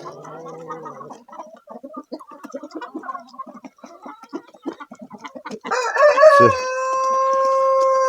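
Backyard hens leaving their coop at 5:30 in the early morning, with rapid, close clucking and chattering throughout, then a louder, sustained drawn-out call near the end.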